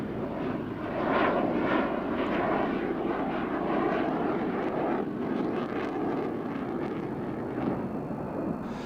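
An F-16 fighter jet makes a slow fly past at about 120 knots at the Royal International Air Tattoo at RAF Fairford, a steady, loud engine roar that holds throughout with no talk over it.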